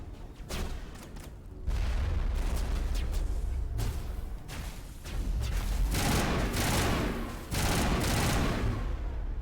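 Enemy gunfire rattles in repeated bursts across the battlefield on Feros in Mass Effect Legendary Edition, with booming impacts between the volleys and brief lulls in between.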